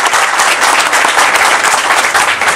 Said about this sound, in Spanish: Recibamos con un fuerte aplauso al licenciado Óscar Ignacio Rangel Mirabete